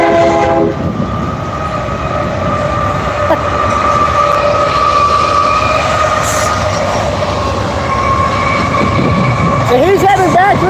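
A freight grain train rumbles past close by, steady and loud, with a long horn blast at the start and squealing wheel tones near the end.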